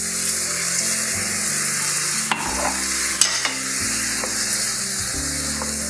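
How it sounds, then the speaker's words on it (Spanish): Milk with asparagus and spinach simmers and sizzles steadily in a pan, with occasional scrapes and clinks of a spoon stirring the mixture; a continuous close bubbling hiss with no talking. "Lo dejo hervir un par de minutos así con las verduras, con toda la mezcla"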